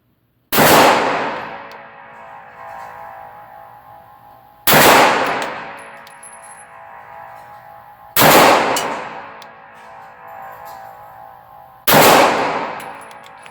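Four loud, evenly spaced pistol shots from a Springfield XD fitted with a Freedomsmith flat-face aluminum trigger, each a sharp crack with a ringing echo that fades over several seconds before the next.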